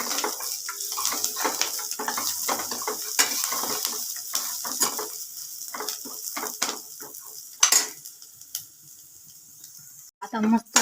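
Malai kofta gravy roasting in a pan, with a steady close sizzle under repeated stirring scrapes and clinks of a utensil against the metal, ending in a few louder knocks.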